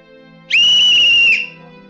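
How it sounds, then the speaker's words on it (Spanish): A single loud football referee's whistle blast, shrill and steady, held for just under a second against near silence. "Utiliza un silbato de árbitro de fútbol y hazlo sonar"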